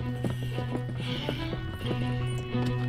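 Horse hooves clopping in Red Dead Redemption II, a steady run of close hoof beats over sustained droning game tones, with no clear neigh.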